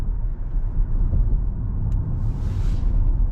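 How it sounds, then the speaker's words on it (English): A 2023 Nissan X-Trail e-Power cruises at high speed on Dunedin's southern motorway, giving a steady low road and wind rumble throughout with a brief faint hiss near the end. "we're just going to head out to the southern motorway here in Dunedin and get the vehicle up to some high speeds"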